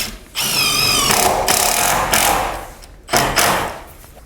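A power drill drives 4-inch GRK screws into a wooden log kayak and canoe rack, whining in several short bursts with brief pauses between them.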